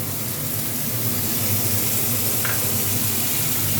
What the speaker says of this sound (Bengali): এই পেঁয়াজটা আমি একটু লাল করে একটু ভেজে নেব।